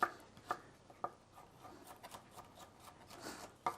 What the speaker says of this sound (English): my carrot I'm going to finely chop into cubes